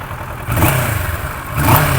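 A 2016 Kawasaki Versys 650 motorcycle engine with its original exhaust revs briefly twice, a close, steady mid-pitched rumble rising in two short blips with no talk over it.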